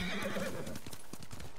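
A horse in the video game Ghost of Tsushima lets out a short, close whinny, followed by a few soft hoof clops on the ground.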